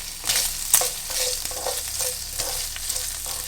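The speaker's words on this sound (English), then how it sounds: "once you get a good sizzle going" Beef fat sizzles and crackles steadily as it renders in a hot pan, with repeated scraping strokes of a utensil stirring it, close up and without talk.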